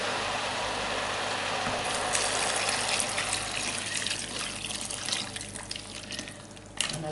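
Stock poured into a pot of hearty vegetable soup, a steady liquid gush and trickle running the whole time at moderate loudness, with a brief louder splash near the end.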